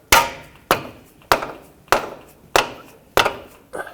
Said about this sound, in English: to finish driving it in, I'm just going to use a rubber mallet on the end of the axle